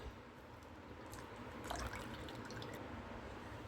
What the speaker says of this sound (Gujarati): હું આ જ મિક્સર જારમાં એક કપ જેટલું પાણી લઈને તેમાં એડ કરી રહી છું